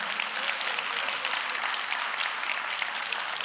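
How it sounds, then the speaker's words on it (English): A crowd at a Rainbow PUSH Coalition Saturday morning forum gives a big round of applause, with dense, steady clapping filling the room for several seconds at an even level. "Give her a big round of applause"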